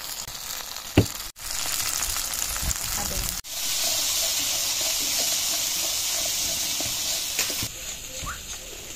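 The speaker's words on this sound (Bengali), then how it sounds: "পেঁয়াজ ভাজা হয়ে গেছে, এবার বেটে রাখা মশলা দিয়ে দেবো।" Onions and a ground paste of cumin, coriander, dried chilli, ginger and turmeric frying in a pan, with a steady close sizzle and hiss broken by a couple of brief stirring clatters.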